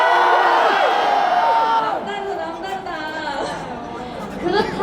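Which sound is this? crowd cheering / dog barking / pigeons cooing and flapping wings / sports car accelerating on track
crowd cheering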